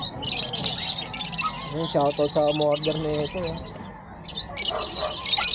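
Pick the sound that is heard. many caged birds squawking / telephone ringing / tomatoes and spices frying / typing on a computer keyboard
many caged birds squawking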